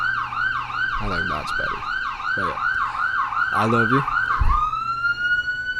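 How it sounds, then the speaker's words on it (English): An emergency vehicle siren wails steadily on the street outside, a repeating rising-and-falling tone that ends in a long climbing sweep, while people talk briefly over it. "Gotta love the sirens, if you can hear them."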